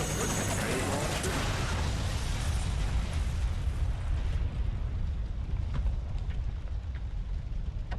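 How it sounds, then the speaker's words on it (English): Grenade launcher explosions in Resident Evil 6, a loud burst at the start followed by rumbling, crackling debris and blast noise that slowly fades over several seconds. "That certainly took a lot of hits, even with the grenade launcher."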